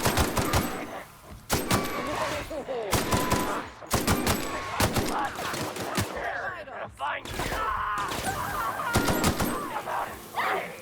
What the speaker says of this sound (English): Pavati's pistol seems to be doing a good job.